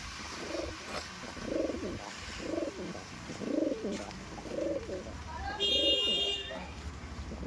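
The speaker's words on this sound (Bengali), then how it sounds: "এই হচ্ছে মেল পায়রা, পুরো রেডি টু ব্রিডের পেয়ার আছে।" Madras pigeons, a breeding pair of male and female birds, coo close by in a steady series of soft, throaty pulses, roughly one every second, over faint background noise, with a brief thin high tone near the end.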